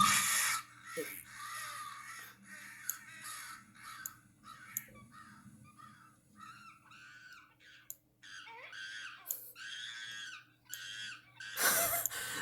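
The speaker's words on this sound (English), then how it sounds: "Monkey's screaming on the background" Harsh, raspy monkey screams and squealing calls in an animation scene, a series of shrill bursts of varying length over a faint steady hum, growing louder and denser toward the end.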